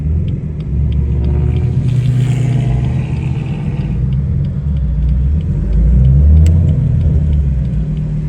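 A bright green Lamborghini rumbles past at a BMW car show in Florida, its deep engine drone steady and loud throughout, swelling slightly near the end as it passes close by.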